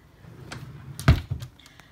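A drawer in a nail art storage unit slides open with a brief soft rumble and a single solid thunk near the middle, followed by a few faint knocks, no speech.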